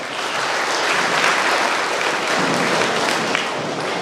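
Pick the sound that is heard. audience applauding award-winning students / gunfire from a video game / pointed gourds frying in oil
audience applauding award-winning students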